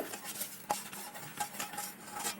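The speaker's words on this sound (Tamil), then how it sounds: "நல்லா கிளறி விட்டுட்டு மறுபடியும் இந்த பாலை கொதிக்க வைங்க" A utensil stirs milk with condensed milk in a pan with repeated scraping strokes and light metallic clinks, close and fairly quiet, with no talking.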